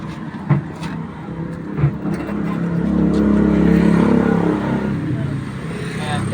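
Rusi 175 motorcycle from 2024 kick-started, its engine catching and revving up into a steady rumble that swells and eases, with someone talking over it nearby.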